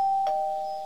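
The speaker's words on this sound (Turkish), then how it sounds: "Hadi şu zili çalalım bari." A single clear doorbell chime rings in a Minecraft parody, a bright sustained tone with a short tap near the start of the second note, fading slowly.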